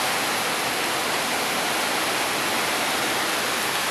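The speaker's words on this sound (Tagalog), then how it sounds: "Talagyan natin ng tubig." A steady, dense rush of water is poured into a cooking pot for beef-skin sinigang, loud and continuous with no talk over it.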